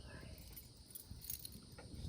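Keys on a large key ring jingle faintly in a quiet space, light metallic clinks scattered in short bursts.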